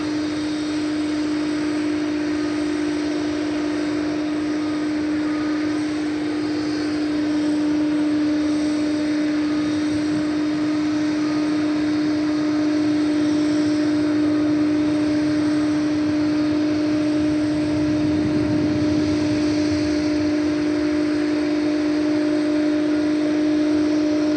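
Airplane at DFW Airport during early-morning plane spotting, a steady, loud engine drone with a sustained whine holding across the whole stretch, swelling slightly toward the end, with no voices.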